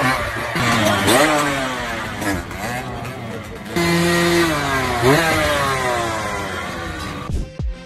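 Motorcycle engine revving and surging as the bike pulls a wheelie and a stoppy at once, pitch sweeping up and down in loud, close bursts before cutting off abruptly at the end.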